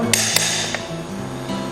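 Sharp metallic hammer strikes ring out near and loud as a farrier works on a horse's front hoof with a horseshoe nail, two or three distinct blows over a steady low hum.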